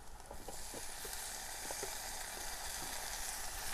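Chillies, onion and tomatoes frying together in a pan for egg bhurji, a soft, continuous sizzle with faint stirring crackles and no talking.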